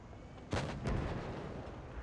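Tank cannon fire in the online game World of Tanks Blitz: two sharp, booming shots about a third of a second apart, followed by a fading rumble over quiet background ambience, fairly faint overall.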